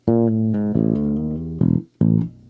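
A bass guitar plays a quick chromatic line of slurred notes, smooth legato runs broken by a couple of sharper plucked accents, with no talking.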